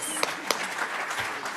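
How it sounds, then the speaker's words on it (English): Brief round of applause from a conference session audience, dense even clapping filling the room with a few sharper individual claps near the start. "give a round of applause"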